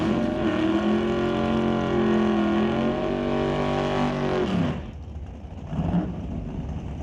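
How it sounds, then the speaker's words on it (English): A 1968 Chevy Camaro at an NHRA Summit ET Series drag racing final, its engine roaring loud and steady with a sustained harmonic drone, then cutting off abruptly as the sound drops to a distant rumble. "1968 Chevy Camaro."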